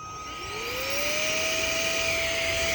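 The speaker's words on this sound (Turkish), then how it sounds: "Süpürge moduna aldıktan sonra direkt ikinci kademeye açacağım." A small handheld car vacuum on its second power level whines up to speed, its pitch rising over the first second, then holds a steady high-pitched motor hum.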